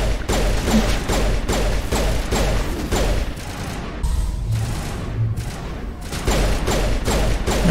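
Rapid gunfire in the video game Mass Effect Legendary Edition, dense bursts of sharp shots and thumps repeating in quick succession with brief pauses, loud and close throughout.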